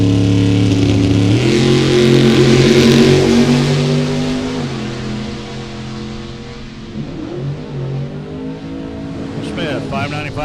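A Mustang and a snowmobile launch together in a drag race, loud revving engines with stepped gear changes fading into the distance down the strip, and an announcer's voice over the tail end.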